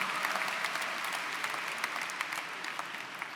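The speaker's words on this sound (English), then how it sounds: "Let's give her a big round of applause and welcome her." A commencement audience at John Jay College breaks into dense, steady applause, a full crowd of hands clapping continuously and fairly loud, with no talking over it.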